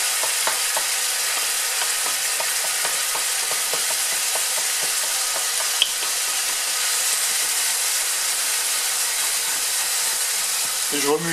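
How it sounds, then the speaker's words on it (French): White wine is poured into a hot pan to deglaze it, setting off a loud steady sizzle and hiss while a utensil stirs and scrapes close by throughout. "je vais déglacer au vin blanc"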